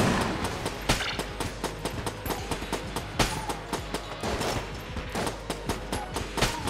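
Rapid gunfire in the Enter the Gungeon video game, a fast irregular string of sharp shots mixed with other weapon fire, steady and moderately loud throughout with no one speaking.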